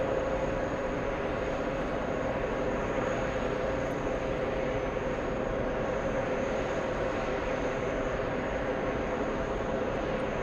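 A Lufthansa airliner landing at JFK airport, a steady broad roar of jet engines holding at an even level throughout, heard from a distance without any voices.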